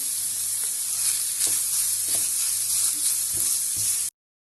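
Onion and minced meat frying together in a pan, a steady broadband sizzle with a few stirring scrapes of a spoon, close and continuous, with no talking.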